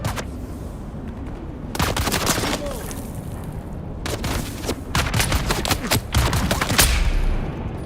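Rapid bursts of gunfire from the video game Dune: Awakening, with repeated volleys and automatic fire rattling close and loud across the stretch, with short gaps between the bursts.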